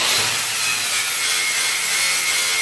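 Steady, loud scraping and brushing while slag is cleaned off a fresh stick weld bead, a continuous harsh rasp running unbroken throughout with no talking.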